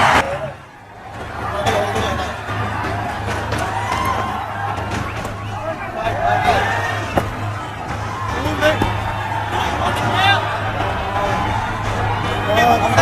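Cricket crowd cheering and applauding as Tendulkar reaches a half-century, a steady roar of many voices from a large stadium throughout, with a brief dip near the start, under a constant low hum.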